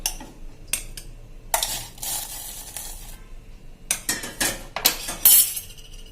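Boiled tomatoes lifted from a pot onto a plate in a home kitchen, with close clinks and scrapes of a metal spoon against cookware, irregular bursts of clatter and wet soft handling between short pauses.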